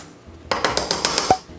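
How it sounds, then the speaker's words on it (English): Mandarin orange zest being grated into a cranberry mix for a Thanksgiving dish: about seven quick, evenly spaced rasping strokes up close, with a final knock against the grater. "create some orange zest. And grate that into the cranberry mix"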